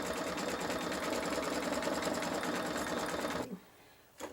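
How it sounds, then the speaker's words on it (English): An embroidery machine stitching tack, tie-down and satin stitches on a wine glass coaster runs in a steady, fast, even rhythm for about three and a half seconds, then stops abruptly and leaves near silence. "We will do both the tack and the tie down and the satin stitch to finish it."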